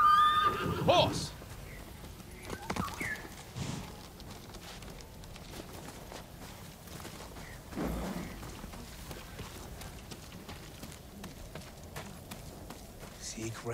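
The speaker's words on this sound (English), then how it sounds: "Horse!" A horse whinnies and neighs in the Ghost of Tsushima video game, a loud call at the start followed by hoof clip-clops and rain ambience, with voices faintly present underneath.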